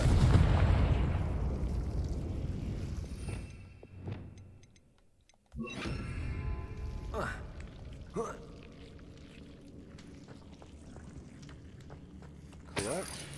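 A Confringo spell explosion in Hogwarts Legacy: a heavy booming blast with a rumbling burst that fades over a few seconds, followed by quieter clinks and a sharp pop later, with some game ambience around.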